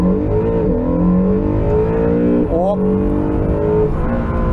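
Honda NSX hybrid supercar launching at full throttle, a loud continuous engine roar with rising harmonic sweeps as it accelerates and shifts, close and dominant, with a brief spoken word over it.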